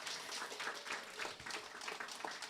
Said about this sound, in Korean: 뜨거운 박수를 부탁드리겠습니다.